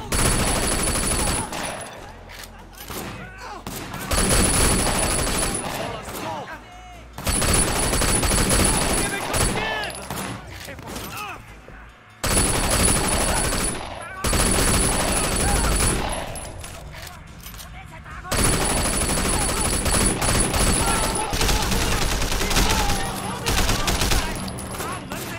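Heavy gunfire rattles through a shootout at a market in the Sleeping Dogs video game, with loud sustained bursts and repeated volleys broken by brief lulls, and voices talking between them.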